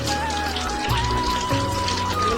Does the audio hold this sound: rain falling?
yes